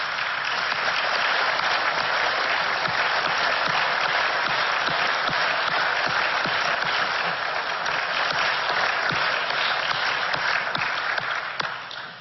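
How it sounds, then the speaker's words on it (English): Audience applause at a State of the City address honoring a group of women in white, a dense, even roar of many hands clapping continuously at steady volume throughout. "we'll give you a round of applause"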